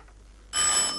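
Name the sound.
telephone ringing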